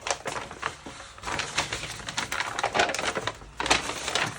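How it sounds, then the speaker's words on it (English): Paper being folded, creased and torn by hand while assembling a jumbo journal from paper bags, with crisp rustles and sharp crinkling bursts running close and continuously, no voices. "Some people like this paper folding sound."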